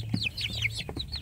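Native village chicks peeping and chirping in a quick run of high, rising calls, close by, with a soft clucking note near the start.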